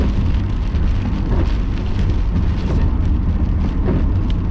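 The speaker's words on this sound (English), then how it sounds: "Moderate rain." Loud, steady rain drums on a moving car during a severe squall line storm, with a continuous roar of water and road noise, no voices.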